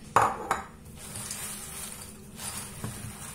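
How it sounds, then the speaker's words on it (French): Biscuits being folded into melted chocolate in a bowl for a no-bake orange cake, opening with a couple of sharp utensil clinks against the bowl, then soft sticky stirring and scraping. "Maintenant, on va prendre nos biscuits et on va les mélanger."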